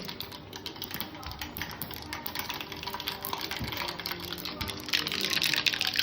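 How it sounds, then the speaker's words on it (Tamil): Mustard seeds splutter and pop in hot oil in a home kitchen, with curry leaves nearby, a dense crackling sizzle that carries steadily throughout and swells louder near the end. "கடுகு பொரிஞ்சிருச்சு."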